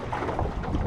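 Wind blowing across open water while out bass fishing on a bright day, a brief rushing buffet close to the microphone with no voices.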